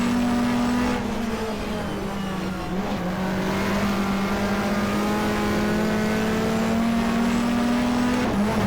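Phoenix Motorsport Peugeot race car in the GTR2 racing game at Eastern Creek, 1994 Australian Manufacturers Championship, its engine droning loud and steady at high revs with pitch shifts between gears and faint tyre noise, no talking.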